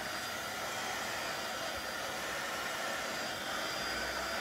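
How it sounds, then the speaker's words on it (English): A heat tool blows air over alcohol ink on a card, giving a steady, loud, broadband whoosh that holds evenly throughout with no talking. "The other thing that you can do is use your heat tool."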